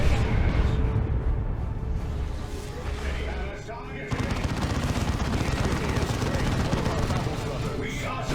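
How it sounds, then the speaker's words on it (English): Assault cannon fire in the Warhammer 40k game Dawn of War 2 Retribution: a dense, continuous rattle of rapid shots amid loud battle noise, running unbroken through the whole stretch. "here comes the assault cannon"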